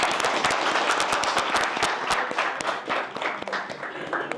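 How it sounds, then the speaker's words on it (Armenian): An audience applauds the boys at a talent contest, a steady crowd of sharp hand claps rattling close and lively before thinning and tapering slightly toward the end. "Ծափարենք մեր տղաներին։"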